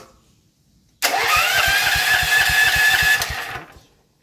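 An old junked generator engine with the choke on and stale gasoline in it turns over and chugs in a rapid, steady pulsing rhythm for about two and a half seconds, loud and close, then cuts out.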